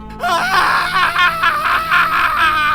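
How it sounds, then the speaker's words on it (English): A loud, close scream that wavers and pulses in several bursts, shrill and strained, carrying on for a couple of seconds. "My head snapped back and I let out a terrified scream."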